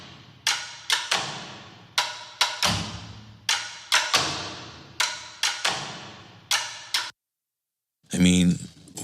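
Ethnic wooden percussion from a damaged sample library, drenched in reverb: a string of sharp, loud wooden knocks and thuds in an uneven rhythm, each with a long decaying tail, a brief silence, then a final buzzy, rattling hit.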